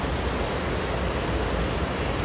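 The Hingakula stream rushing beneath a bridge on an off-season Sripada forest hike, a dense, steady, loud roar of flowing water close by, with no voices.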